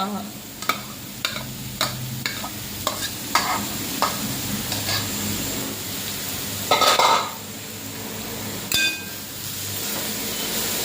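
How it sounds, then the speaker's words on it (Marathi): Grated carrots sautéing in ghee for carrot halwa, a constant soft sizzle under regular spoon scrapes and clinks against the pan, close and without talking. "आणि तुपावरती गाजर छान परतवून घ्यायचे आहे"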